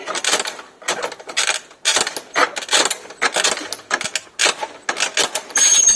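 A hand tile cutter scoring the glaze of a floor tile, repeated gritty scraping strokes in quick succession, close and fairly loud, with no one speaking.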